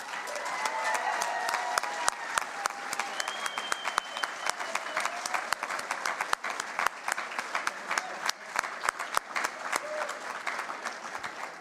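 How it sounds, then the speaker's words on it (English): An audience at an awards gala applauds its winners, a steady, dense round of clapping lasting throughout, with a few voices and whistles faintly audible within the crowd. "please join me in a big round of applause for all our winners here tonight"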